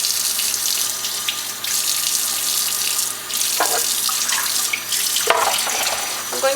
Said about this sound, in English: The water running might be kind of loud.